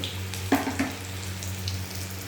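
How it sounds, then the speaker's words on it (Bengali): Black cumin (nigella) seeds sizzle in hot oil with a steady, soft frying hiss, a couple of brief crackling bursts near the start, and a low hum underneath. "সামান্য একটু কালো জিরা দিয়ে দেবো।"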